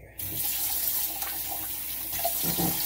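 Steady water running from a bathroom sink tap during a straight-razor shave, a continuous close hiss and splash that starts abruptly and fills the whole stretch, with no talking.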